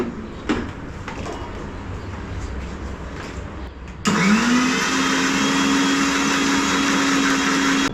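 Kitchen mixer grinder starting up partway through, jumping to a steady loud whirring motor whine that holds constant after a quieter stretch of room noise.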